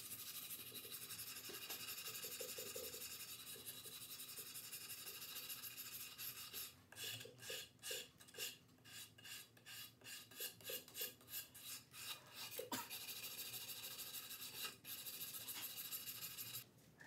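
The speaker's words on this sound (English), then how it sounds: "take some 220 grit sandpaper, wrap it around a pink eraser, and then sand a very slight bevel into the edge of the guitar" Sanding a slight bevel into the edge of a guitar body with 220 grit sandpaper wrapped around a pink eraser: close, soft rasping strokes that quicken into a steady back-and-forth rhythm midway, then settle into a continuous scratchy rub.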